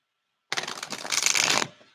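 A deck of tarot cards is riffled in a single brief shuffle, a close, crisp burst of fluttering card slaps lasting just over a second before settling into silence.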